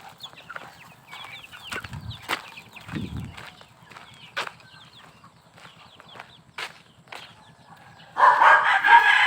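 Backyard chickens cluck in short scattered calls near the listener, with soft rustling, a couple of low thumps, and a louder burst of noise at the end.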